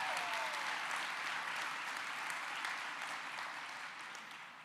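Audience applause at a college convocation ceremony, a dense, steady wash of clapping from a large crowd that slowly fades toward the end.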